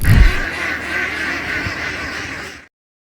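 Dense, continuous quacking from a flock of about 600 farm ducks, loud and close, filling the scene for a few seconds before cutting off.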